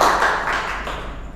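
A university class gives a short round of clapping that starts loud and fades over about a second, with a faint voice under it at the start.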